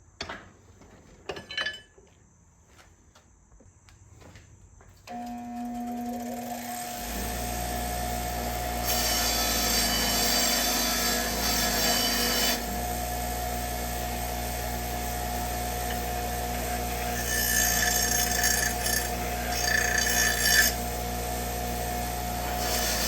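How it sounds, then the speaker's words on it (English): A bench grinding wheel spins up after a few faint handling knocks and runs steadily close by, with stretches of harsher grinding as burrs are taken off a Hustler Fastrak SDX mower deck part. "Bring it over to the wheel, clean these burrs off."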